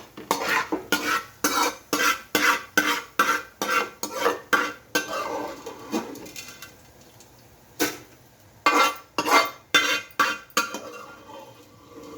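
A spoon scrapes ground guava chutney out of a steel vessel into another bowl, giving a quick run of close metallic scraping and clinking strokes, a pause, then a few more strokes.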